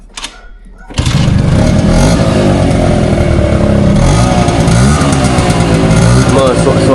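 A rebuilt Honda Dio two-stroke scooter engine bursts into a loud, raspy rev after a second of quiet, then holds a sustained buzzing drone close by with slight rises in pitch.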